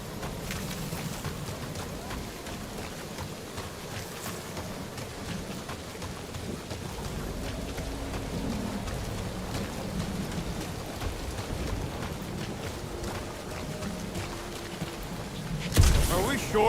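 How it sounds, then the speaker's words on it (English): Steady heavy rain pours through a storm in the Guardians of the Galaxy game, a constant wash of noise with low rumbling under it and a sharper burst near the end. "Perhaps the storm will have abated."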